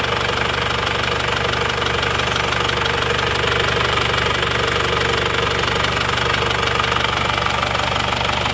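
An Isuzu Panther car engine idles steadily nearby with a constant rapid knocking rattle running through the drone.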